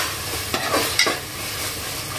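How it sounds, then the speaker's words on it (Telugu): Garam masala paste sizzles and fries in hot oil while a spoon stirs it, giving a steady hiss with a few scraping strokes, close and clear, with no voices. "గరం మసాలా పేస్ట్, బాగా కలుపుతూ ఫ్రై అవ్వనివ్వాలి."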